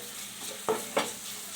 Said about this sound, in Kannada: ಚೆನ್ನಾಗಿ ಫ್ರೈ ಆಗಬೇಕು. ಫ್ರೈ ಚೆನ್ನಾಗಿ ಕೈ ಆಡಿಸ್ತಿರ್ಬೇಕು